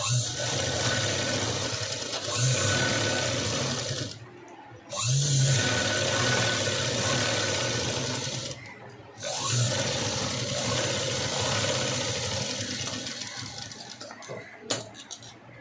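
A sewing machine stitches a blouse with a double stitch, running as a loud, steady mechanical whir in long bursts with brief stops in between.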